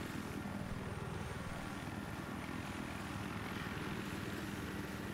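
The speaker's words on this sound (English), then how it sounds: "Hold on, I'm attacking the gunship right now." A helicopter gunship in Battlefield 3 during a 32-versus-32 match on Armored Shield, its rotor and engine drone a steady, faint, uniform whir throughout with no voices.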